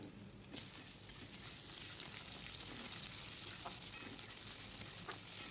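Potatoes tipped into onions frying in oil bring a quick surge of sizzling, followed by a dense, steady crackle and hiss with light stirring clatter, close by and without any voices.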